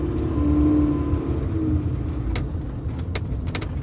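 A 1989 Honda Prelude Si with a transmission shifting fault drives along, its engine droning steadily and loudly from inside the cabin, easing slightly as it shifts, with a few faint clicks.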